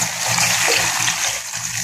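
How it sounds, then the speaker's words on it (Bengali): Water pours steadily into a pot of cooking bean seeds and fish, a continuous splashing gush that runs for a couple of seconds without pause, close and fairly loud. "দিয়ে দেব প্রয়োজনীয় পানি"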